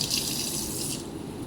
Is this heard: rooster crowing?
no